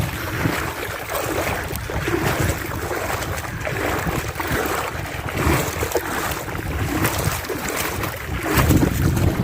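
A double-engine boat passes on open water, its low, steady engine rumble mixed with wind buffeting the microphone and the wash of waves, loud and continuous throughout.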